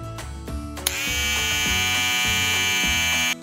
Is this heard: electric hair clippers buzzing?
yes